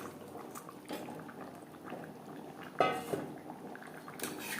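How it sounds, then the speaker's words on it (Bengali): Fried aar fish pieces and split fish heads with potatoes simmer in a Bengali-style gravy, giving a steady low bubbling with an occasional clink of a utensil against the pot, close by and without talk. "গ্রেভির সাথে মাছ আরও চার পাঁচ মিনিট রান্না করবো"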